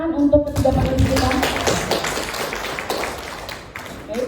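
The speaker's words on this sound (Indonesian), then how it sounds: "Boleh tepuk tangan untuk ketiga panelis kita" An audience at a positive-discipline seminar applauding three panelists, with scattered clapping and taps that are loudest at the start and thin out gradually, and a few voices murmuring underneath.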